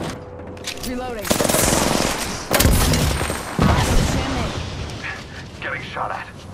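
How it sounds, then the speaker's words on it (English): Rapid automatic gunfire in Apex Legends erupts in several loud bursts, with heavy clusters of shots and impacts over a steady rumble of game ambience, the firing coming close and then easing off toward the end. "Getting shot at."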